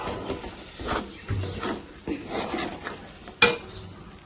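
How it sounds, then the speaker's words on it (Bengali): A spoon stirs poppy-cashew spice paste in a pan over a low gas flame, making a series of soft scrapes and light metallic taps, with one sharp clink toward the end. "গ্যাসের ফ্লেমটা আস্তে দিয়ে মশলাটা এইভাবে নাড়াচাড়া করতে হবে যাতে মশলাটা লেগে না যায়।"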